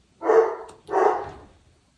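Two short dog barks, close and fairly loud, one after another with a brief gap, alone without talk.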